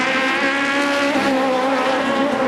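Aussie Racing Cars at Adelaide in a steady, high-pitched engine whine as the race cars pass, loud and continuous, with no break in the engine sound.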